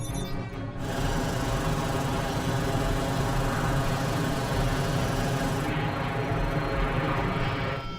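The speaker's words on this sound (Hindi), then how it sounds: "ड्रोन्स रिलीज कर रहे हैं।" Drones released in an action movie scene whir with a loud, steady buzzing motor drone that holds evenly throughout, no voices.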